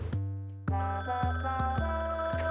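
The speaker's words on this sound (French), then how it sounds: "On va répondre au téléphone." A telephone rings in the detective video game Hot Tin Roof: The Cat That Wore A Fedora, a loud tonal bell-like ring that repeats in steady pulses and plays alone, with no talk over it.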